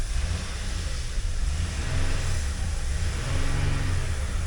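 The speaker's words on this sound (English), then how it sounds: "That Eco Diesel though, there she goes." A 2018 Ram 1500 Laramie with the 3.0L EcoDiesel engine revs up twice, its low diesel drone rising and falling in two swells over a steady close rumble, with no talking.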